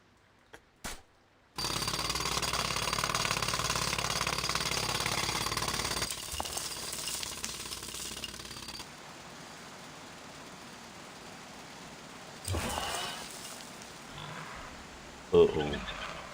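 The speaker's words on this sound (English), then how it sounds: "I need more time to finish hammering the hole!" A jackhammer drills a hole in the TMNT Mutants Unleashed video game, hammering loudly and continuously for several seconds before stopping, then starting again in shorter bursts, with game voices and effects around it.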